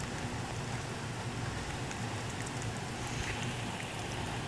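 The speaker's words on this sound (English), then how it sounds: "It is downpouring like a motherfucker right now." Heavy rain pours down steadily during a storm in Enfield, Connecticut, a dense, constant wash of noise with no breaks or voices.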